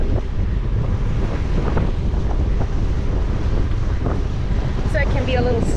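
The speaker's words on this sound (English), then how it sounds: "You can hear the wind. At this point, the wind's coming across the lake" Strong wind blows across a lake on a ridge trail, roaring steadily and buffeting the microphone with a heavy, rushing noise throughout.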